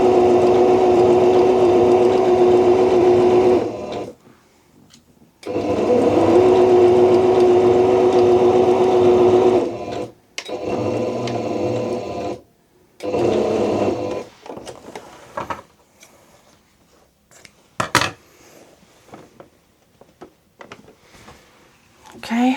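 A sewing machine stitches a seam on a hat in two long steady runs with a pause between, followed by shorter bursts and stops amid clatter and handling noise; a voice talks briefly in places.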